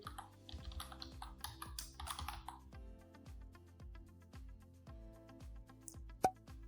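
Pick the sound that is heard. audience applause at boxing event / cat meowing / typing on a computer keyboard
typing on a computer keyboard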